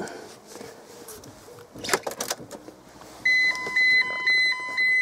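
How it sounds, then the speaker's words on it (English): Some rustling and a clunk inside a 1999 MGF 1.8 convertible, then a series of repeated electronic alarm-check beeps as the ignition is switched on, evenly spaced and fairly loud. "when you put the ignition on, it'll beep at"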